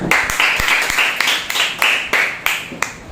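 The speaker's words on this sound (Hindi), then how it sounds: "परमेश्वर के लिए एक जोरदार ताली" A congregation at a Wednesday church service claps loudly together. The claps are strong, near and rhythmic, coming in rapid unison bursts that fill the room.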